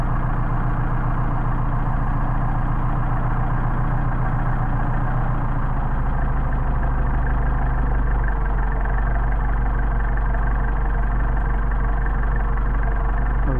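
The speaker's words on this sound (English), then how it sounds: "We got you a real nice idle, about 700." A car engine fitted with Solex 44PHH carburetors idles smoothly at about 700 rpm, a steady, close, low-pitched rumble that holds even throughout with no voices.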